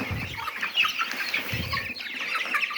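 Broiler chicks and chickens clucking and peeping close by on a farm, a busy overlapping chorus with occasional louder squawks.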